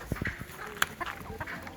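Buff Orpington show chickens clucking in a farm setting, a few short close clucks and calls scattered across a brief stretch, with one sharper call standing out midway.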